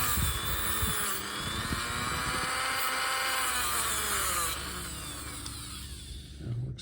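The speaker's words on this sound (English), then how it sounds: "I prefer a wire brush whenever I can." Dremel rotary wire brush cleaning the contacts of a Lucas bulb socket from a Triumph gives a continuous high-pitched whine with buzzing that varies with load. It is close and steady, then winds down near the end.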